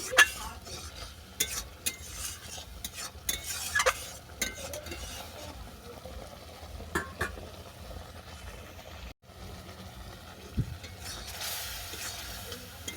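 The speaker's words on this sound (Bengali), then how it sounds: "এরপর নেড়ে চাটনিটাকে আমি ভালো করে ফুটিয়ে নেব" Raw mango and fish roe chutney stirred and boiled in a pan, with repeated scraping strokes and soft clinks over a low bubbling simmer throughout; no talking.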